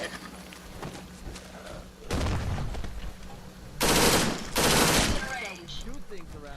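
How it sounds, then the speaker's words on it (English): Bursts of rapid automatic gunfire in the game Fallout 4, loud and close, three separate volleys over steady background game ambience. "Shoot things around here."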